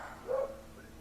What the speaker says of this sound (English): that is one of my beagles out in the backyard. She's barking at somebody